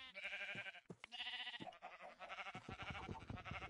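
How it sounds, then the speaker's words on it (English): Blocky video game sheep bleat in several wavering calls, close and fairly loud, stacked with other game sounds in a Minecraft-style survival world. "Hello, sheep."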